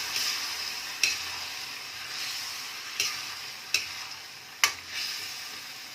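Chilli chicken stirred in a pan after cornflour slurry is poured in, a steady sizzle running underneath while the spoon knocks against the pan now and then, a handful of sharp scrapes spread across the stretch.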